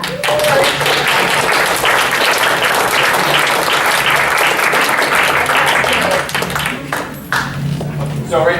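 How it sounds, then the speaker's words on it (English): An audience at an exhibit event gives a sustained round of applause, dense clapping held for about six seconds before thinning out into scattered claps and voices. "I'd like to do a round of applause just for that."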